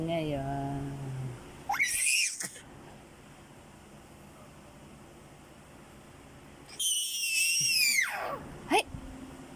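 A young child lets out two loud, piercing screams close by, each rising and falling over about a second, separated by quiet, with someone speaking softly beforehand.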